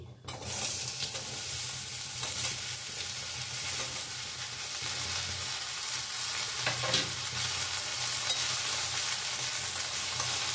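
Ridge gourd and potato pieces fry in an oiled pan, starting with a sudden burst of sizzling that settles into a steady loud hiss with occasional stirring scrapes, close up and free of speech.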